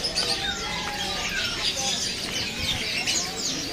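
Many birds chirp and tweet at once inside an Indonesian bird market, with overlapping calls and a soft coo, all set over a dense crowd hubbub.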